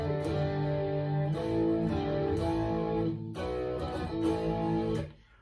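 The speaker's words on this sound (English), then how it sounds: "what you can hear is the guitar itself acoustically" Acoustic guitar strummed and picked, heard acoustically through an iPhone microphone, ringing chords in several sustained phrases before fading out at the end.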